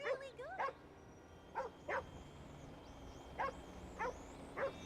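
A dog in the open world of GTA Online gives six sharp barks in uneven pairs and singles, moderately close, with a faint background hum.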